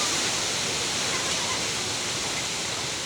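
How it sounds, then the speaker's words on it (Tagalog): Strong wind with rain lashing down during a rainstorm at an outdoor swimming pool: a loud, steady, unbroken hiss and roar that fills the whole three seconds. "Medyo malakas na yung hangin."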